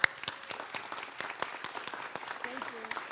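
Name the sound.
audience applause for park staff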